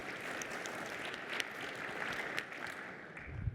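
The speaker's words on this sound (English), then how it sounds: "Can we give a round of applause for Nellie?" Applause from a conference audience after a tech talk, a steady wash of clapping at moderate distance that holds for several seconds without anyone speaking.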